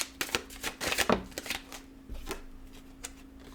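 A deck of tarot cards is shuffled close by in quick bursts of crisp riffling and slapping, then softer handling toward the end.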